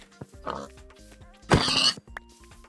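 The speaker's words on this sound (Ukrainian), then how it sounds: "Свинка, свинка," Minecraft pigs oinking in short grunting bursts, one soft grunt followed by a louder, longer snort, over a quiet game background with faint melodic tones.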